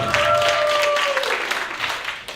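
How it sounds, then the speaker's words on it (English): Thin, shallow applause from a small conference audience after a magic trick, loud at first and thinning out toward the end. "it's a pretty shallow applause"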